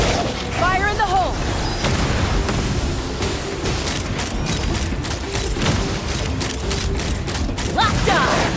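Explosions and booming gunfire rumble through a Genshin Impact story quest battle, dense and loud throughout, with shouted voices cutting in over the blasts.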